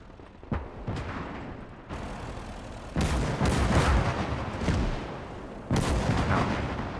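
Heavy gunfire and blasts batter a player's tank in a war video game, with sharp broadband cracks at irregular intervals over a continuous loud roar, swelling in dense bursts midway and again near the end.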